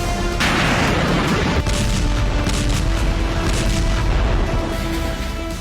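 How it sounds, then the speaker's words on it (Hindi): Aerial bombing in Gaza, heard as a continuous dense rumble of heavy booms and blasts, loud and close, with overlapping impacts throughout and no clear gaps. "आसमान से होती ये बमबारी गाजा के कोने कोने को तबाह किए बिना नहीं थमेगी।"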